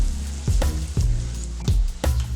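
Green chillies frying in hot oil crackle and sizzle steadily, with several sharp pops and stirring clatters landing at irregular intervals, close up and with no voices.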